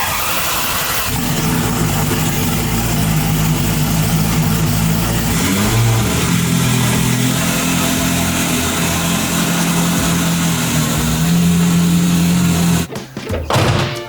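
Ferrari engine cold-starting after sitting unused for a long time with a disconnected battery: a loud, steady rough idle with a brief dip and surge midway, holding for about twelve seconds before cutting off abruptly near the end.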